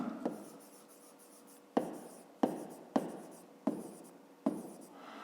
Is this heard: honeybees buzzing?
no